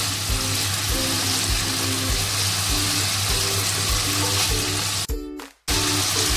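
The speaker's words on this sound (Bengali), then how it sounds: "জল দিয়ে দিলাম" Steady broadband hiss of water hitting hot oil in a pan of papaya dhoka curry, green chillies already in, sustained and close for several seconds before a brief dropout, with no talking.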